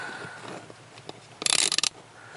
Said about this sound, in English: 15mm deep socket on these nuts